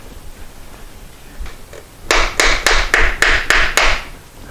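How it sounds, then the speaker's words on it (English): Eight or so quick, loud, evenly spaced taps strike a stuck part on a 1973 Moto Guzzi held in a vise, following a few fainter knocks, with no voices. "We'll probably have to put it in the vise and we'll try tapping on it again."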